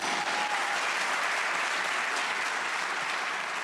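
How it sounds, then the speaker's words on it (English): A crowd at a district's annual state-of-the-district event breaks into dense, sustained applause, a loud even wash of many hands clapping throughout the whole stretch. "Let's give that a round of applause."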